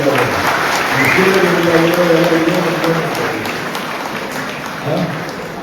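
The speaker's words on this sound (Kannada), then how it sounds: "ಚಪ್ಪಾಳೆ ಹೊಡಿಬೇಕು." An audience at a World Youth Skills Day program applauds. The sustained crowd clapping fades gradually, with a voice sounding over it.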